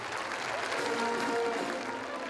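A bullfight crowd in an arena gives strong applause, heard as a broad, steady wash of clapping from the stands, with a voice talking over it.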